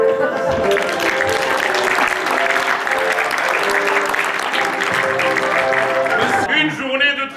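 A theatre audience at an afternoon comedy show in a hall applauds loudly and continuously, a dense close wash of clapping that carries on for several seconds before tapering off near the end.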